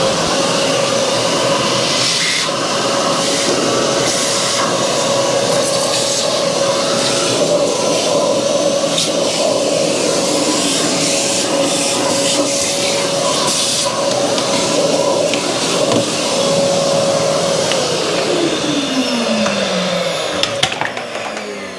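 A vacuum cleaner hoovers out the cabin filter housing of a Fiat Scudo, Citroen Dispatch or Peugeot van, with a loud steady motor drone and airflow hiss. The motor pitch holds constant, then winds down near the end.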